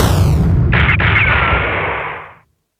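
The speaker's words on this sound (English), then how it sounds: "sounds of gunshots filtered into the air." A single loud gunshot-like blast at night near a school during an armed clash, booming close and then fading in a rumbling tail over about two seconds.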